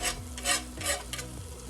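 Flour is stirred into a roux sauce base, giving soft, close scraping strokes in a slow rhythm, roughly three passes of the utensil with a faint sizzle underneath.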